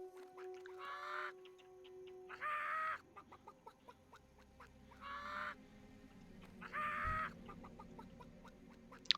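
Chickens in World of Warcraft Classic cluck and squawk in four loud, distinct bursts spaced a couple of seconds apart, with quieter game ambience between them and no talking.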